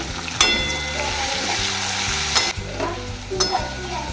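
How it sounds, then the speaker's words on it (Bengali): Chopped onion sizzles loudly in a pan for chicken curry, a close, bright frying hiss broken by a few sharp stirring scrapes and pops, with a faint musical background underneath. "পেঁয়াজটাকে একটু ভেজে নিই।"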